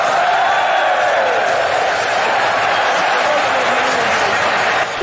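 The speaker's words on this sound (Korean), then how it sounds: "우승 후 관중에게 달려가 환호를 이끌어내는데요" A large stadium crowd roars and cheers continuously at Tottenham's Europa League final victory as Son Heung-min runs toward the fans, a dense, loud sustained wash of voices throughout.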